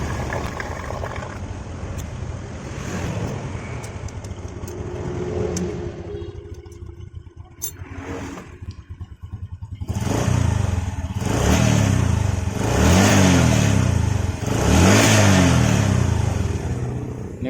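Honda Supra 125 motorcycle engine idling with a rough, clattering mechanical patter, then revved harder in several swelling bursts toward the end, close and loud with no talking.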